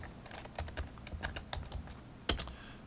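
Fingers type a command on a computer keyboard in a quick irregular run of close, crisp key clicks, ending with a firmer keystroke, with no voices.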